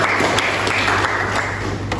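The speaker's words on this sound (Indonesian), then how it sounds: "kasih tepuk tangan untuk Latifah" A classroom of students claps for a classmate, Latifah, after her answer: a steady, dense patter of hand claps at moderate volume filling the short stretch, with a low hum underneath and no talk.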